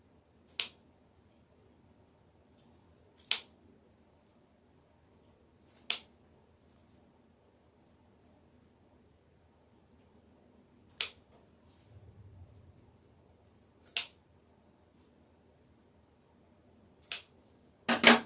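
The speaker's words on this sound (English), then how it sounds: "now I'm going to cut my dovetails." Scissors cut dovetail ends into wreath ribbon for a fall pumpkin deco mesh wreath, giving about eight crisp single snips spaced a few seconds apart. Each snip is close and clear in an otherwise quiet room.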